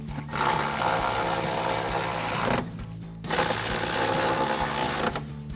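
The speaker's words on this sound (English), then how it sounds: "we're going to grab our ratchet and shallow 16mm socket and tighten these down" A ratchet with a shallow 16mm socket tightens bolts on a running board bracket of a 2021-2025 Ford Bronco, giving two long stretches of steady, close mechanical whirring and clicking with a short pause between them and no talk.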